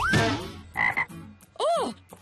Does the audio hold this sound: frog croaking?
yes